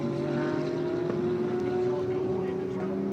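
The 5.5-liter naturally aspirated V8 of a Chevrolet Corvette Z06 GT3.R race car at Circuit of the Americas, holding a loud, steady droning engine note with a sustained tone throughout.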